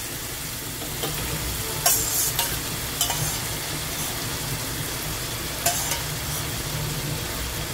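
Yogurt goes into a spiced masala frying in oil for pickle-style okra, a constant close sizzle broken by a couple of sharp hissing bursts and light stirring clatter, with no talking.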